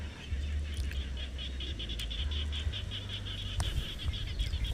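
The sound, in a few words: frogs croaking at dusk, calling for mates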